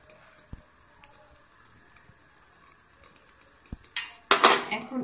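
A cooking pot is set down with a loud clatter of metal and crockery while bhapa pitha steams inside it, the mould covered with a cotton cloth. Faint scattered clicks come first, then a cluster of sharp knocks near the end.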